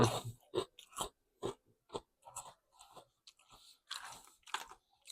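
Close, loud crunching bites and chewing of crispy mixed-flavour rice crackers, sharp snaps arriving in an irregular rhythm with brief silent gaps between them.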